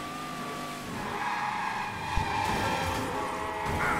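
A car in the video game Mafia 3 brakes hard, its tires squealing and skidding under a steady engine drone, with a brief thump partway through.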